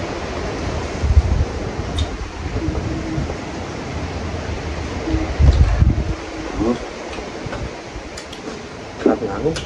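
Wind gusting outdoors, buffeting the microphone with low rumbling swells that rise and fall, strongest in a couple of heavier gusts, with faint rustling in the background.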